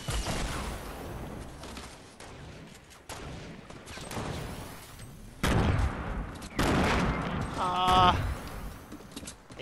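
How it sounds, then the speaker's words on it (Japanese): Rapid bursts of gunfire in Fortnite crackle and pop in clusters during a 50 vs 50 match, with booming impacts and a brief electronic tone near the end, under a noisy game mix. "銃声が響き渡って何が何だか分かんねえよ。"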